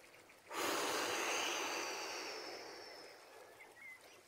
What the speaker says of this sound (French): on souffle très fort en posant nos mains sur nos cuisses